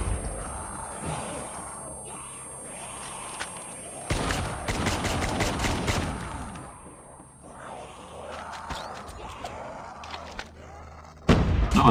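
Bursts of SKS rifle fire in a video game, a dense rapid string of sharp shots in the middle with scattered thuds and shots around it, ending in a loud blast.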